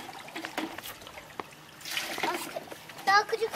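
Water poured over a child's head during a bath, trickling and splashing softly in short spills under children's voices and household chatter.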